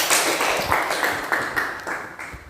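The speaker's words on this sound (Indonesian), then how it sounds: "Terima kasih, kita berikan aplaus." Applause from a classroom audience after an Islamic studies lesson, a few seconds of mixed clapping with repeated swells of hand claps at close range.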